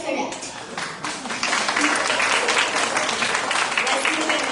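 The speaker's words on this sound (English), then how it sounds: "Let's give another round of applause" Group of students at a Diwali gathering in a Texas community hall clapping together, a modest start that swells into steady, lively applause for several seconds.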